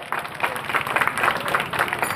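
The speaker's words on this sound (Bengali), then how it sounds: "একবার করজোরে হাততালি।" An audience at a ward councillor's clothing distribution ceremony applauds, a brief burst of many hands clapping at moderate distance with a faint murmur of voices underneath.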